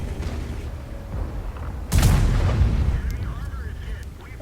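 A single heavy, booming tank gun shot in World of Tanks breaks through a low rumbling background, followed by a fading roar and faint mechanical noise.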